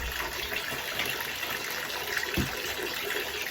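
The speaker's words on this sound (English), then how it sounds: "I've got my bathtub filling up with some warm water. Actually, it's pretty hot water." A bathtub fills with hot water, giving a steady broadband rush of running water that stays close and continuous throughout, with one brief low thump partway through.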